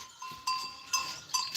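Goats bleat in a few short, separate calls spread across the moment, fairly close and moderately loud, with a quiet background between them.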